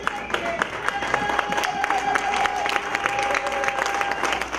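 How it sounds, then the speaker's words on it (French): A church congregation applauds during worship, a continuous mid-level clapping crowd with a sustained sung or hummed tone running beneath and voices mixed in. "Nous pouvons nous asseoir et nous applaudissons pour le grand roi."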